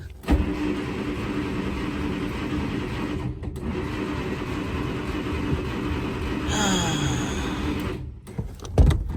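A 1949 Studebaker Champion engine cranks in gear with a steady, continuous churning drone that runs for about eight seconds. It is loud and close, and a brief higher whine rises near the end.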